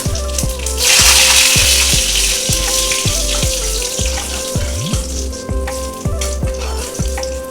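Dry red chilies and Indian five-spice frying in hot oil, a steady close sizzle with regular metallic scrapes and taps of a utensil against the pan, no talk.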